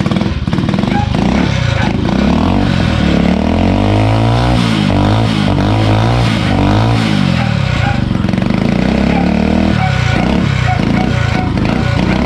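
Honda TMX 125 scrambler motorcycle engine running loud and close through its muffler, with a rough idle that rises into a couple of revs and then drops back, while a person talks over it.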